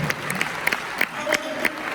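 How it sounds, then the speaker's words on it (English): Audience clapping in a large hall during a motivational talk, a scattered, uneven patter of hands with sharp individual claps standing out, fairly distant and thin rather than a full ovation. "Clap your hands if somebody is understanding where I'm coming from."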